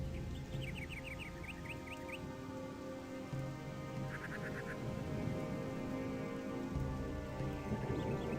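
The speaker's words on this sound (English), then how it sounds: "it's raining bloody cats and dogs" Steady heavy rain pours down in the fantasy role-playing game Gothic 2 Night of the Raven, a continuous dense hiss with faint bird chirps, no voices.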